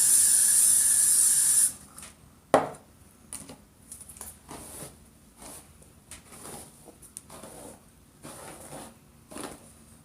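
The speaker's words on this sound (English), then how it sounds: "spray it" A loud, sustained hiss of hairspray sprayed onto a wig opens, then cuts off, followed by quiet rustling and soft scattered taps.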